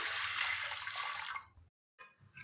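Water sloshes and swishes close by as lentils are rinsed in a pressure cooker, then stops briefly before a few more splashy swirls.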